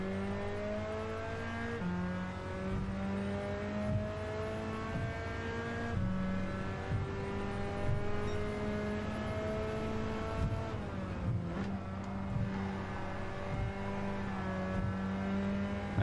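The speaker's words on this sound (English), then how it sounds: "Nice little drift through there." A race car in Gran Turismo 7's Japanese Clubman Cup 550 revs and shifts through a drift, engine tone climbing and dropping across gears with some tire squeal, loud and close throughout.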